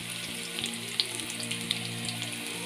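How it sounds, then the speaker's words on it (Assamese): Black gram dal frying in a pan gives a steady, close sizzle with occasional small pops and crackles, heard alone without talk. "এইখিনি ধুনীয়াকৈ ভাজি আছোঁ"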